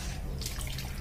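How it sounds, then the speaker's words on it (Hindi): A cup of milk, cream included, poured into a bowl for an eggless marble cake: a brief, steady, close liquid pour with a soft gurgling splash. "तो आप इसमें पहले 1 कप मिल्क डाल दीजिए।"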